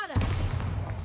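Bombarda blasting spell striking in Hogwarts Legacy, a sudden heavy low thud followed by a sustained rumbling boom that holds loud through the rest of the moment.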